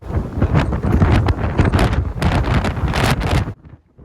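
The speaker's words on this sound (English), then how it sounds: "the wind was pretty bad at Walleye Creek, as you can hear just here" Strong wind at Walleye Creek buffets and roars against the microphone in heavy, uneven gusts, then drops away abruptly near the end.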